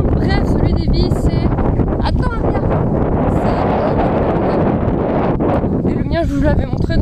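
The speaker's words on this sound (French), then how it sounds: "il y a du vent, vous entendez rien" Outdoors, wind blows straight into the microphone as a loud, continuous buffeting roar that swamps everything, with voices talking faintly underneath.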